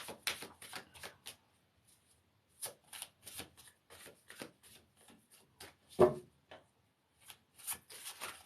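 A deck of reading cards being shuffled, a series of crisp riffling bursts coming in uneven clusters with short pauses, close and fairly quiet.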